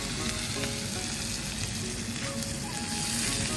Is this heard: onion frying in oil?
yes